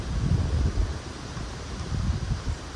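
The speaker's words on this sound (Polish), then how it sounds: "niestety zerwał się wiatr" Gusty wind at an apiary beside an apple tree buffeting the microphone in low rumbling bursts, rising and falling over a couple of seconds.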